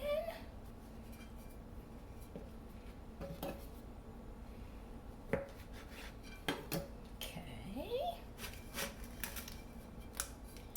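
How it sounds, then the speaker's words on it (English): Canned biscuit dough being sliced and set into a pan for homemade cinnamon rolls, giving scattered metallic clinks, scrapes and taps of a knife and pan close by, with a faint voice in the background. "We're just going to slice them, put them in this pan."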